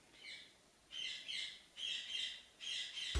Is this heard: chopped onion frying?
no